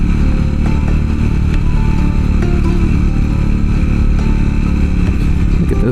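A Triumph motorcycle engine pulls steadily in first gear along a treacherous Utah canyon trail, a loud, continuous low throb close to the microphone with clattering mechanical texture and slight shifts in revs throughout.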